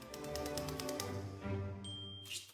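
Typewriter keys clack in a quick burst of sharp taps, followed by a lower sustained tone and a brief high ring, heard faintly and with no voices.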